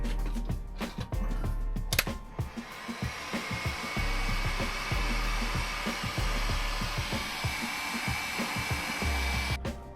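A heat gun blows hot air over heat-shrink tubing on camper van 12V wiring, giving a steady airy whoosh broken by frequent clicks and handling knocks close by.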